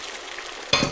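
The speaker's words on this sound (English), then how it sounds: "I need to cook the eggs first. Put an oil. Let's put the eggs in here." Eggs hit hot oil in a pan, and a sudden, close burst of sizzling breaks out after a quiet lead-in.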